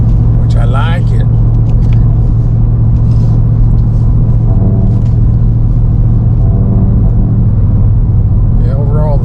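Ford Raptor R pickup cruising at low RPM while towing an 8,000-pound trailer uphill, giving a steady, loud low engine and road rumble from inside the cab, with people talking over it.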